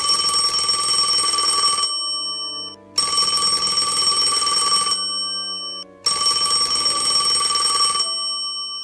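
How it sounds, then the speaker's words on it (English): Telephone bell ringing three times in long, even bursts, each about two seconds of loud, close electric ringing separated by short pauses. "the phone rang again mere seconds after she had hung up"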